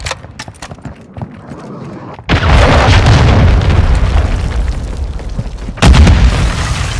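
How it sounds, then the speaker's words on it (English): Cruise missile explosion in Call of Duty Modern Warfare II, a sudden heavy boom followed by sustained rumbling debris and a second sharp blast near the end, preceded by clicks and faint game sounds. "Hostile cruise missile incoming."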